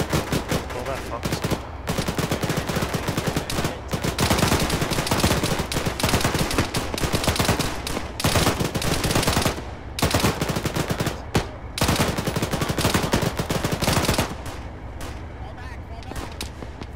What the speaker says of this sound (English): Taking fire from the castle.